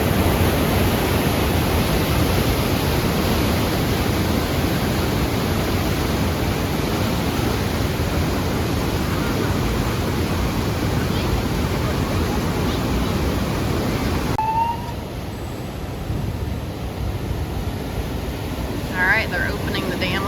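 A loud, constant roar of water rushing through an opened dam at the Big Chute Marine Railway fills the air, broad and hissing, easing slightly toward the end as faint voices appear underneath.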